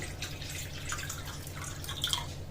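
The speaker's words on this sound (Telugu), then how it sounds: "ఇప్పుడు మనం ఈ బౌల్లోకి కొద్దిగా వాటర్ వేసుకుందాము" Water trickling into a bowl in a home kitchen while preparing cauliflower and pea curry, a soft continuous splashing flow with a few brighter drips, fairly close and alone without talk.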